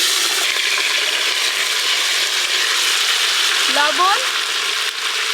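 Potato, beetroot and carrot frying in hot oil, a steady loud close sizzle running throughout, with a brief voice briefly heard over it.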